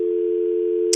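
A steady, loud telephone dial tone holds unbroken on the line, with a brief faint click or noise right at the end.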